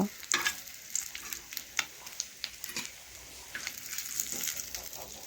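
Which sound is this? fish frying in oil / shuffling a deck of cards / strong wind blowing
fish frying in oil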